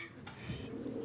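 A frillback pigeon coos in a soft, low continuous murmur lasting about a second, close by, with no talk over it.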